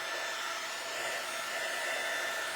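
Hair dryer blowing on freshly painted wood during a glue-resist stencil project, a steady loud whoosh running alone and close throughout.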